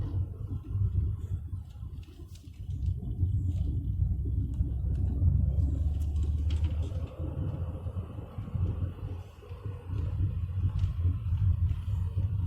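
The 2.3-litre engine of a Mercedes 190E accelerates in fourth gear from around 2000 rpm, a low, steady rumbling drone heard from inside the car with constant road noise.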